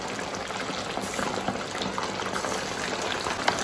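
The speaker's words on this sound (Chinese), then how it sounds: "下锅让它炸至自然上色" Pieces of hairtail fish deep-frying in a pot of hot oil, a steady, dense sizzle that stays even throughout, close up and with no one talking.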